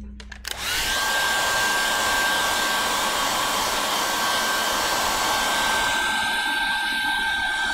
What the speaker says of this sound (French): magnifique sèche-cheveux coin-coin